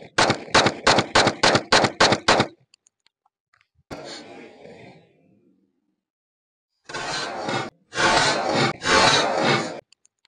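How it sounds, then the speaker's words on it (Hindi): Pistol fitted with a Roni conversion kit firing a rapid string of about eight loud, sharp shots, followed by a single fainter report and then bursts of noise after a pause. "बहुत खूबसूरती के साथ 10 राउंड फायर किए जी इस रॉनी किट से"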